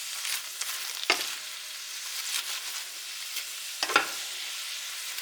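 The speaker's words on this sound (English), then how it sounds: "Then I'm going to add some salt. Give this a stir." Salted cabbage sizzles in a pan with a steady hiss, broken by a couple of sharp scraping stirs that stand out clearly. No one speaks.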